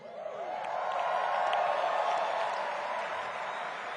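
An audience at a training talk on an identity theft program breaks into applause, a dense wash of clapping that swells and holds steady at a moderate distance, with scattered cheers.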